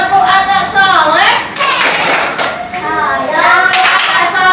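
Children clap in rhythm during a classroom clap chant, the sharp claps bunching into several quick bursts that ring out over sung, chanted young voices filling the room.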